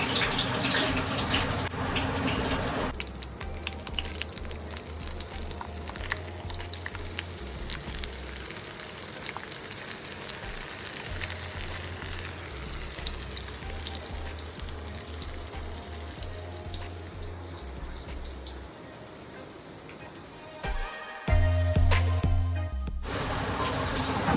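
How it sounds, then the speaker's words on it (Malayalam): Fish sizzling and crackling in hot oil with curry leaves, a steady close frying hiss broken by brief handling noises near the end. "ഇനി ഇതിനകത്തേക്ക് ഞാൻ ഡയറക്റ്റ് മീൻ വെച്ച് കൊടുക്കുക കേട്ടോ"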